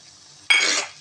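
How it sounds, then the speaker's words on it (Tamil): Sliced tomatoes and onions hit a hot pan for sautéing, giving one sudden, short burst of sizzling and clattering that tails off within half a second. "சேர்த்து நல்லா வதக்கிக்கலாம்."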